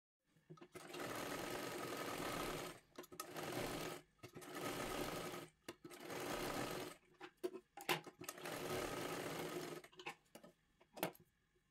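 A sewing machine stitches the cup of a size 36 katori blouse in several quick runs of rapid mechanical chatter, each a few seconds long, separated by short pauses and ending in brief taps.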